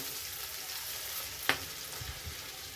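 Potato pieces fry quietly in a pan as they are turned, a faint steady hiss broken by one sharp utensil tap and a few soft scraping knocks.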